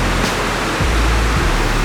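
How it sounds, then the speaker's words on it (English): A loud waterfall at Emerald Bay roars as a steady, broadband rush of falling water that fills the clip at close range, with no voices. "there's actually a pretty sweet waterfall here as well."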